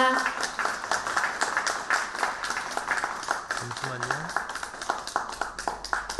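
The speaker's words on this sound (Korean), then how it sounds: "박수 부탁드립니다" Applause at an award ceremony for a user-made video contest: a crowd claps steadily and continuously at moderate distance, while a voice speaks briefly over it.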